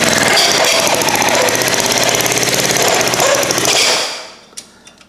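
A restored rototiller's small engine runs with a loud, rapid chugging clatter for about four seconds, then dies away, leaving a few faint mechanical clicks.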